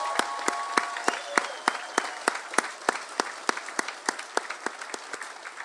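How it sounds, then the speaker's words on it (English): A graduation crowd applauds parents, guardians, grandparents and friends, with steady rhythmic clapping repeating in sharp, evenly spaced beats for several seconds. "let's give another huge round of applause for our parents and guardians and grandparents and friends that got out there"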